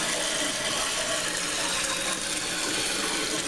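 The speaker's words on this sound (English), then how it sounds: "So I'm going to go ahead and flush the toilet." A toilet flushes as the handle is pushed down and the chain lifts the flapper, giving a steady, loud rush of draining water that continues without a break.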